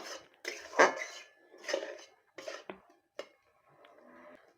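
A utensil scrapes and clinks against a pan in several separate strokes while winter melon chutney with lemon juice is stirred, close and fairly quiet with pauses between.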